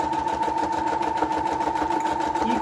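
Sewing machine running steadily through a modified zigzag stitch on a fabric index card tab, a fast even whirring clatter close up with no talk.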